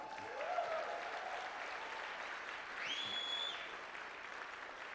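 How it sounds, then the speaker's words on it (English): A motivational-talk audience breaks into sustained applause, a dense even wash of clapping held for several seconds, with a couple of faint whistles rising over it and no talk. "give yourselves a round of applause"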